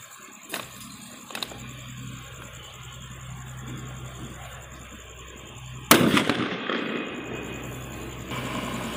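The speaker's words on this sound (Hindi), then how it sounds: "इस मीडियम साइज के बुलेट बम को जलाते हैं।" Diwali firecrackers, a small parrot bomb and a medium bullet bomb, go off outdoors: a couple of light pops early on, then one sharp, loud blast followed by trailing crackle and rustle.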